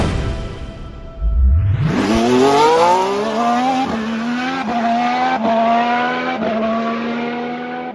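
A race car launches on a track with a loud rising engine roar, accelerating through several quick gear shifts, each marked by a brief drop and climb in pitch, close and without talk.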